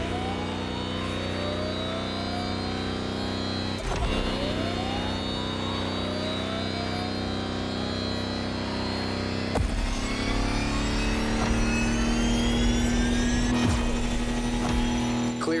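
An electric Lamborghini hypercar concept in The Crew Motorfest accelerates with a steady, rising electric whine and hum, layered over a continuous drone and punctuated by a couple of sharp transients, with no talking.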